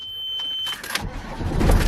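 A 1998 horse lorry's engine starts with a short crank followed by a rising, rough diesel rumble that settles into a steady idle. It sounds close and loud, and a faint electronic tone is heard just before.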